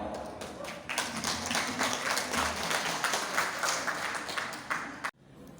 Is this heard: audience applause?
yes